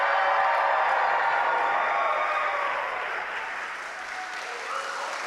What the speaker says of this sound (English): can we get a cheer from you guys sat here?